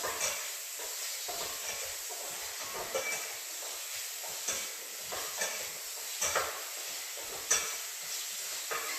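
Food for Vietnamese pho sizzles and hisses softly in a pan over lowered heat while it is stirred. Faint scraping and clinking of the stirring utensil sound now and then above a steady, quiet fry.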